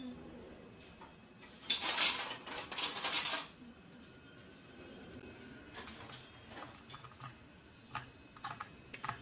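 A spoon stirs food in a dish in a home kitchen, with a loud burst of clinking and scraping followed by softer, scattered taps and clicks. No one speaks.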